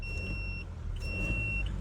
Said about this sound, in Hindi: और सुनो इसका रेव करके इंजन नॉइस, ये देखो